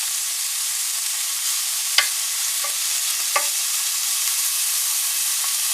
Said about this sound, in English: we're just going to brown these up really quick. Toss them around, get the olive oil on.